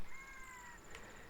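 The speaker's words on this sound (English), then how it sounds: "Hear those birds?" Night birds call in Zelda: Ocarina of Time outside the castle, with a few thin, high, sustained whistling tones held over a soft, steady ambient bed, fairly quiet and without talk.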